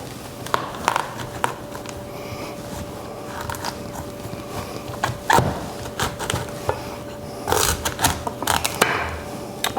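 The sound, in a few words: knife cutting a spaghetti squash in half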